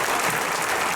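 Audience applause at a high school football hall of fame dinner, a dense steady wash of many hands clapping throughout a brief burst, no voices standing out.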